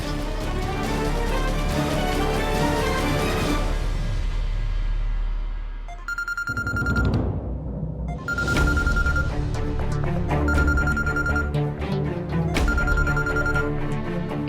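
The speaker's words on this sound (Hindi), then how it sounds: "इबादत का फोन है" A telephone rings in clear, evenly spaced bursts after earlier background music fades, each ring a bright repeated electronic tone.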